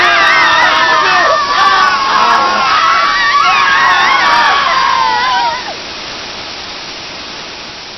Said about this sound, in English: Gosh, those screams are quite loud.